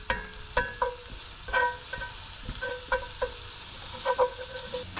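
Sausage sizzles and crackles in a skillet, a steady frying hiss broken by sharp utensil clinks and scrapes against the pan at irregular intervals, close and moderately loud.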